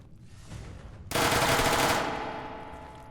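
Sustained automatic gunfire from a heavily recoiling gun in Fallout 4, a dense loud burst of rapid shots lasting about a second, then a ringing tail that fades slowly under a low game background.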